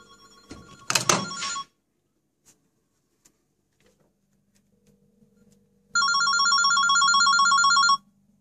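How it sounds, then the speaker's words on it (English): A phone rings from inside a microwave oven: a muffled burst of ringing at the start, a pause with faint clicks, then a clear, steady electronic ring for about two seconds. "As you can see, it's ringing"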